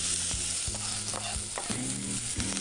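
Chopped shallot sizzles and fries in hot oil in a saucepan for risotto, with a spoon scraping and stirring in short, repeated strokes.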